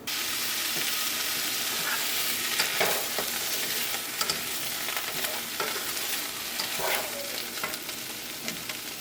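Steady crackling sizzle of onions and Brussels sprouts frying in a pan, with occasional clinks and scrapes of stirring, close up and continuous.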